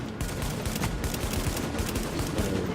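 Gunfire in the video game The Division: a continuous volley of overlapping shots rattles steadily for several seconds, dense and fairly loud.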